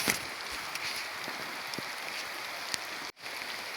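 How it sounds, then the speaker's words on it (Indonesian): Heavy rain pours down at a fishing spot, a dense, steady hiss with faint scattered patters, fairly close, briefly cut by a dropout near the end. "deres ini mas bro hujannya mas bro."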